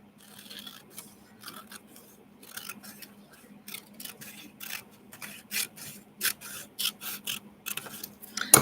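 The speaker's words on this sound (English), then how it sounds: "I'm going to cut more on this side too." Paper being cut with scissors while making an extended card pocket, heard as a run of short, crisp snips that come faster and louder toward the end, set over a steady low hum.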